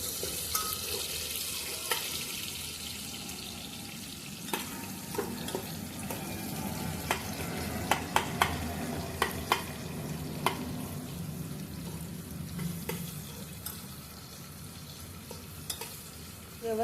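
Onion frying in a pan over medium heat for masale bhat, a steady soft sizzle under occasional stirring clicks and light scrapes, close and fairly quiet.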